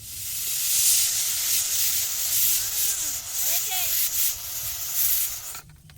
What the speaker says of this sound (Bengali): আরেকটা সিটি পড়বে, নামিয়ে দেবো।